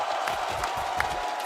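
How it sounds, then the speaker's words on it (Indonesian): Crowd applause and cheering from an Indonesian audience at an esports match, a steady, moderately loud wash of clapping and crowd noise lasting the full brief moment. "Tepuk tangannya sekali lagi."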